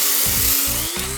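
A coffee grinder grinding rock into fine powder gives a loud, harsh, continuous whir with a rhythmic pulsing rattle as the pieces tumble against the blades.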